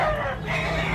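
Rooster crowing amid a busy Tabunok, Cebu chicken market, a loud sustained call over dense background clucking and crowd noise.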